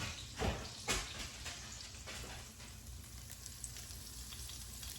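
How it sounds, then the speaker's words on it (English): Pieces of smoked sausage fry in a skillet with a soft, steady sizzle, punctuated early by a couple of sharper pops or clatters, fairly quiet and close with no talking. "smoked sausage. And this is the brand that we like, and I can't pronounce it, but that's what I have going in my skillet right now."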